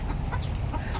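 A hen clucks close by next to her newly hatched chick, soft repeated clucks over a dense, noisy farmyard background.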